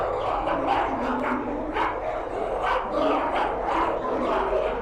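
Several dogs bark and yip in quick bursts over a steady noisy background in the video game Amenti, sounding close and continuous as they give chase.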